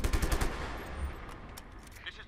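Rapid automatic gunfire in a video game, close and loud bursts at the start, then thinner scattered shots trailing off, with no talking.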